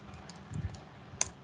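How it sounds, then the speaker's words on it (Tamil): A few quiet, scattered keystrokes on a computer keyboard, soft clicks with one sharper tap near the end, close and without talk. "இங்க நான் கம்ப்ளீட்னு டைப் பண்றேன்னா"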